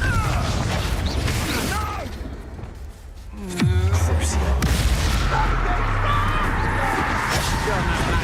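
Confringo blasting spell exploding in the Hogwarts Legacy video game, a sudden loud burst with a descending whoosh and rumbling boom amid dense combat noise and game voices.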